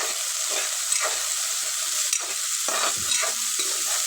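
Tomato and coriander are stirred in a frying pan, with a steady sizzle under repeated scraping strokes of the spoon. The strokes bunch together toward the end, and no one speaks.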